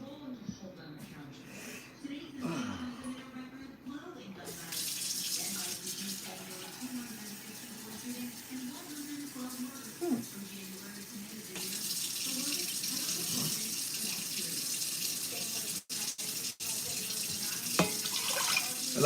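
Water runs steadily from a kitchen tap into a pot, filling about three cups, with a broad hissing gush that grows louder partway through while people talk over it.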